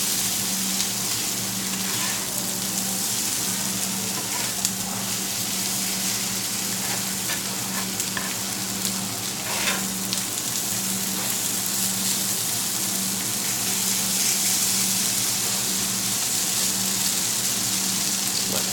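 Breakfast food browns on a grill with a steady, dense sizzle and crackle under a low constant hum. A few faint scrapes come through, with no voices.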